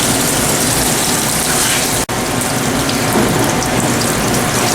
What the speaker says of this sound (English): Open the valve fully, allow all the oil to drain into the machine.